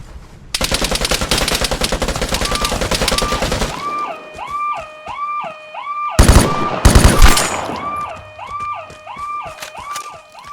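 UZ-59 submachine gun firing in the Vigor video game: one long rapid burst, then a quiet stretch with repeating warbling electronic tones, then two short loud bursts. No talk.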